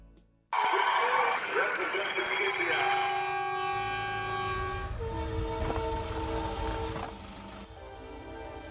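A train passes close by and loud with a sustained, multi-tone horn blast that shifts in pitch as it goes, plus a rumbling roar from the rail cars underneath, then fades toward the end.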